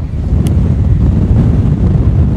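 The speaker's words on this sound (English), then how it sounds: "Wow, it's very windy." Strong wind buffets the microphone outdoors during an RC car speed run, a loud, continuous low rumble with a brief higher blip near the start; no voices.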